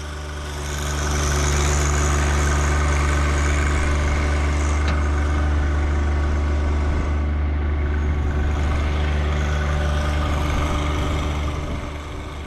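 A tractor runs steadily with a Frontier RT3049 tiller while smoothing and preparing a sunflower field bed, its deep engine drone holding loud and close from start to finish with no pauses.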